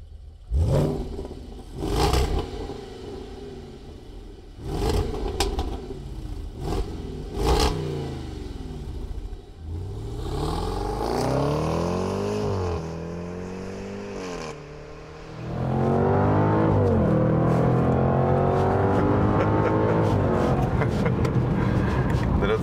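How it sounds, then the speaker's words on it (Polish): A 550 hp Jaguar F-Pace SVR SUV with a big V8 runs loud and close, its engine note rising and falling through several revving sweeps, then settling into a heavy sustained drone, with sharp clatter at the start. "550-konny Jaguar F-Pace SVR napędzany monstrualnie wielką V8-ką"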